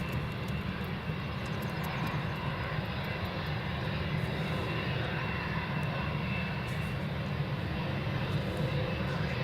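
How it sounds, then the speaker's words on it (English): A KLM Boeing 737-800 jet at Edinburgh Airport makes a steady, broad engine roar that carries on evenly through the whole stretch. It is heard from a moderate distance with no voices over it. "KLM 737-800 to Schiphol."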